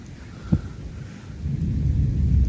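A thunderstorm with rain and lightning: a sharp crack of thunder rings out early, followed by a swelling low rumble as steady rain hisses underneath, with no talking.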